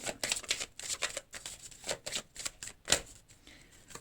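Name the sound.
shuffling and drawing tarot cards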